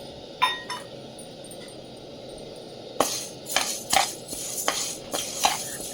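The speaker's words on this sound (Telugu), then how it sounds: "ఒక ఉలవలండి దోరగా వేయించుకోవాలి" Horse gram being dry-roasted and stirred in a pan, with a quiet first stretch followed by repeated scraping and clinking strokes of a spoon against the metal over a faint background hiss.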